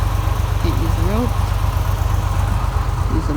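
A truck engine runs steadily and loud up close while towing out another stuck truck with a tractor nearby, a continuous low rumble throughout with brief voices talking over it.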